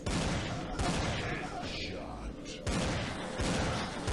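Pistol gunfire in the mobile zombie shooter game Dead Target, a handful of sharp shots crackling amid dense game noise, with a brief lull in the middle before more shots.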